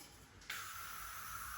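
Hairspray hisses from an aerosol can onto a short pixie haircut, a sudden, steady, fairly close spray that begins after a brief quiet moment and continues evenly to the end.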